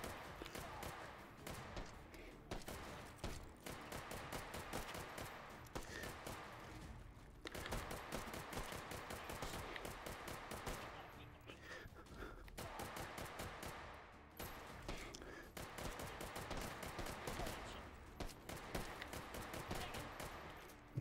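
Sustained machine-gun fire in H3VR, a VR shooting game, with long rapid automatic bursts broken by brief pauses and dense overlapping shots throughout.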